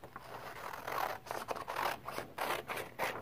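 Scissors snip through paper tabs up close, quiet rhythmic cuts and rustling paper scrapes repeating in short bursts.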